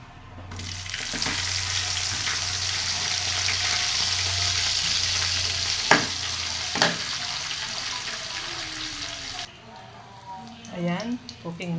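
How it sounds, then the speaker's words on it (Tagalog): Onion and garlic sauté in a pan left with a little meat fat, giving a loud, steady close sizzle with a couple of utensil knocks before the hiss cuts off and a voice speaks. "Ayan, cooking na po yung ating sibuyas at bawang."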